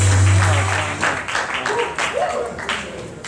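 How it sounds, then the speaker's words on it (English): A conference audience in Atlanta gives applause for a speaker, broad clapping over a low hum at the start, continuing beneath voices and fading toward the end. "Let's give a huge round of applause to Mr."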